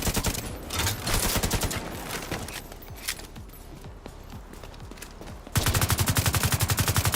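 Heavy sniper turret fire in The Division 2, with rapid bursts of shots rattling throughout, a quieter stretch of scattered single cracks in the middle, then a loud sustained barrage near the end.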